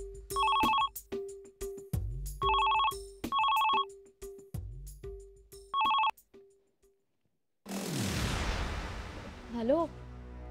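A telephone rings in several repeated electronic bursts separated by short gaps, fairly close and loud, followed by a rushing noise and a brief voice once the ringing stops.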